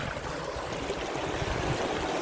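Water rushes steadily through a freshly dug channel after a storm in rural Portugal, a close, continuous broadband gush with no voices.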